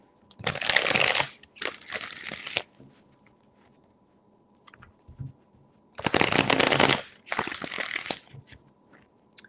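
Tarot cards being shuffled by hand in four crisp, riffling bursts, two close together early on and two more after a pause, near and fairly loud with no talking.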